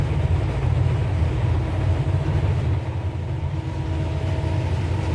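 A Ferromex freight train passes with a steady, heavy low rumble that stays loud and constant throughout, with no distinct horn or clatter standing out.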